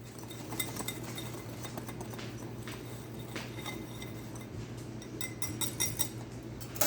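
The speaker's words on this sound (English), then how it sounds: "I'm just going to whisk that in" A whisk stirs flour, salt and cinnamon in a bowl for banana chocolate chip muffins, giving faint, rapid, uneven clinks and scrapes over a low steady hum.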